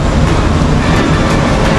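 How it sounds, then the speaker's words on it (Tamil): A train rolls into a station in Thailand, giving a dense, loud rumble of wheels and rail noise that stays steady and close across the short moment, with no voices. "வரும்போதே அடுத்த ட்ரெயின் ரெடி ஆயிடுச்சு."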